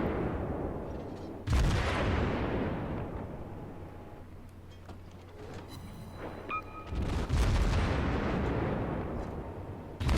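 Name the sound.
naval gunfire from Königsberg cruiser, World of Warships video game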